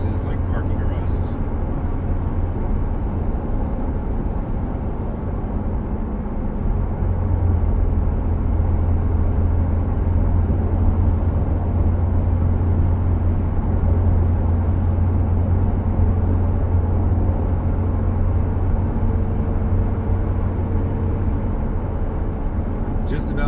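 A 2024 Toyota Land Cruiser on a test drive produces a steady low engine and road drone with constant tire rumble throughout, close and continuous, while someone talks over it.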